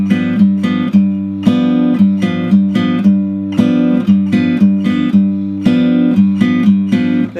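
Acoustic guitar plays the rhythm of a song, plucked alternating bass notes with chord strums in a steady repeating pattern, close, loud and clear, with no talking.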